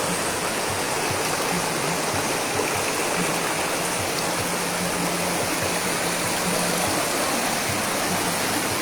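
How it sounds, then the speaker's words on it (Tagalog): A strong river current rushing steadily and loudly, a continuous broad roar of flowing water with no pauses. "Ang lakas ng agos."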